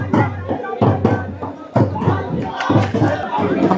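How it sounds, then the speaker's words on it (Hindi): A protest crowd in Delhi chants slogans in rhythmic, loud bursts of many voices, repeating in regular pulses close by. "ये दीपक है और उनके साथी भीड़ नारे लगाते हुए जा रही है"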